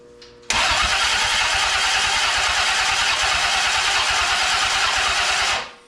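A V8 engine on a go-kart build being cranked, with the starter grinding loudly and rhythmically for about five seconds up close before cutting off.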